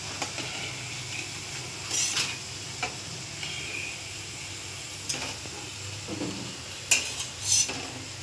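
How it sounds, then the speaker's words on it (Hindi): Corn pakoda (bhajiya) deep-fry in oil over medium heat with a low continuous sizzle, broken by occasional brief clinks and scrapes of a slotted spoon against the pan. "ये देखिए अब हम ऐसे ही सारे भजियों को तल लेंगे"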